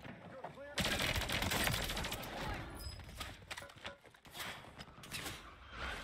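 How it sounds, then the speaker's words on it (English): Airstrike in Call of Duty Warzone, a dense, loud barrage of rapid explosive cracks and rumbling impacts that starts abruptly and continues in uneven bursts. "I'm putting an airstrike on it."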